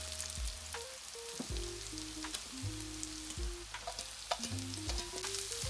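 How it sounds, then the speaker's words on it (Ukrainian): Onion and carrot fry together in a pan for braised cabbage, giving a steady close sizzle with occasional scrapes and taps of a spoon stirring, and no talking. "Це тепер обсмажую разом з морквочкою все"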